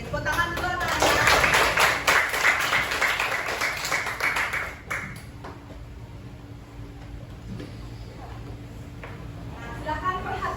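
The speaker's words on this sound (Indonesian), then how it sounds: "tepuk tangan dulu anak-anak" Children in a classroom clap hands briskly and loudly for about five seconds in a fast, even patter, then the clapping drops away into a quieter room with faint scattered taps.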